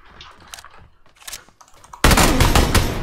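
Video game gunfire: scattered single shots and short tapped bursts at first, then a sudden loud, continuous burst of firing at close range.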